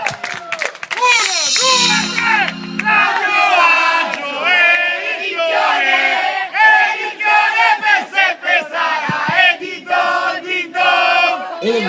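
A live concert crowd cheers and shouts for an Italian band, loud and close, with voices rising over scattered clapping and excited yells that surge and dip throughout.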